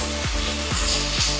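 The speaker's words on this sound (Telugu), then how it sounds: "ఇందులోకి టమాటాలు వేస్తున్నాం" Tomatoes sizzle as they fry in hot ginger garlic paste for a prawn and ridge gourd curry, a steady close crackle with a few stirring scrapes, with no voices.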